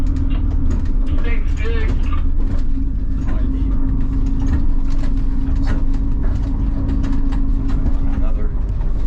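A steady engine drone and rumble fill the cabin of a moving tour bus on the road through Cradle Mountain, Tasmania. People talk over it throughout.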